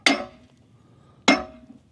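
A stone strikes the pin of an excavator bucket in place of a hammer, giving two sharp metallic knocks about 1.2 seconds apart, each ringing briefly before fading into quiet.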